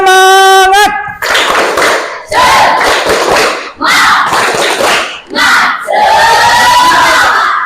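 A classroom of students chants and claps in unison through the 'tepuk semangat' routine, loud group shouts in rhythmic bursts after a single sung note at the start.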